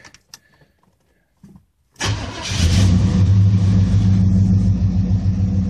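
A 1979 Chevy El Camino V8 is started up close by. After a few faint clicks the starter cranks, the engine catches with a loud burst and settles into a steady, rumbling fast idle.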